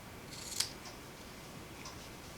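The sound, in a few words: ribbon scissors cutting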